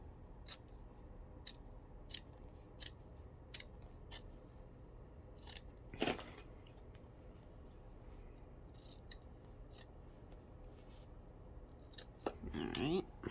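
Scissors cutting paper for a mini clutch album, a string of short, crisp snips at a steady pace, with a louder rustle of paper being handled midway and again at the end.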